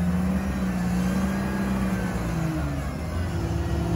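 A Jeep Wrangler drives off-road in four-wheel drive with no lockers engaged, working through ruts; a steady mid-pitched engine hum runs close and continuous throughout, with slight shifts in load.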